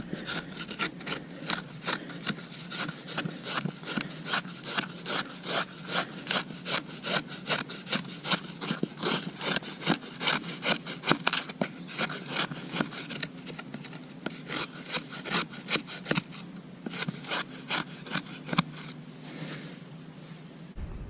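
A knife blade shaves feather sticks from a dry wooden stick, a long run of close, rhythmic scraping strokes repeating steadily for about twenty seconds with no talk.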